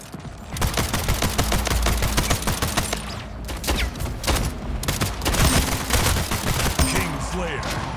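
Pistol gunfire in a video game: dense, rapid volleys of sharp shots and clattering bursts, loud and nearly continuous, with occasional voices in the mix.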